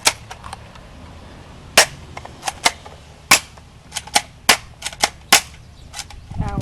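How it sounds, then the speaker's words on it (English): Airsoft guns fire single sharp snapping shots at targets outdoors, around a dozen irregularly spaced cracks, some in quick pairs, over quiet background. "Randomly shooting at targets with airsoft guns."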